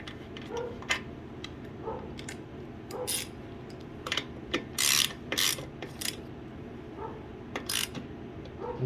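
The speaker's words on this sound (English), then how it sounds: "So you just tighten it all down." A ratchet tightens down the bolts on a 2022 Icebear Champion carburetor, giving a quiet run of clicking bursts with pauses, close and alone without talk.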